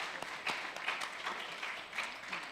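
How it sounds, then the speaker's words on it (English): An audience at a law week event gives a short round of applause, the clapping moderately loud and continuous, with faint voices mixed in. "Let's give her a round of applause"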